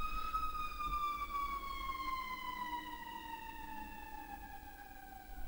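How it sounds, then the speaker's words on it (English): A single emergency siren wails steadily outside a window, its tone gliding slowly downward as it passes, loud and continuous for the whole stretch with no talk over it. "Sorry, there's a siren."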